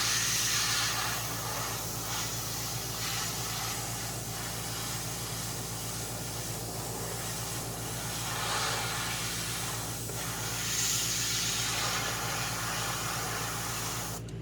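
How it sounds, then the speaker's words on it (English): Continuous broadband hiss of a spray bottle misting over a painting in progress, steady and fairly loud for the whole stretch with slight swells, no voices. "Once I'm doing this, I am going to mist this on everything."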